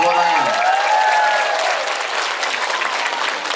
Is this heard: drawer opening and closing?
no